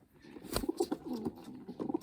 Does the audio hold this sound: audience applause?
no